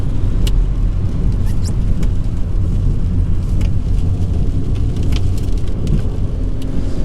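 A 2009 Ford Ka engine labors while climbing a hill, a loud, continuous low rumble and strained drone with road noise heard from inside the car.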